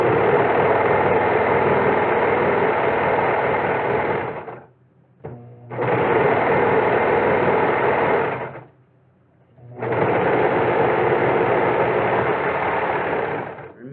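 A Brother 4031 serger stitches curtain fabric in three loud, steady runs of fast whirring, with brief pauses between them where the motor stops.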